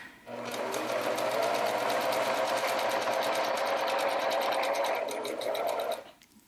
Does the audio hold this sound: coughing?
no